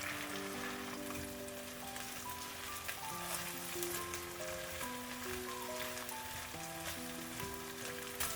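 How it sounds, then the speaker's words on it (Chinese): Diced potatoes and egg fry quietly in a pan, a faint steady crackle like light rain, with soft background music tones running beneath it. "煎至底部金黄之后，用铲子给它翻个面，再煎另一面。"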